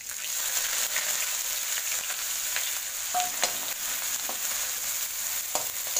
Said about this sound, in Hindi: तेल हमारा पक चुका, अब से गैस धीमी कर दी, इसमें हम ये अदरक डाल देते हैं।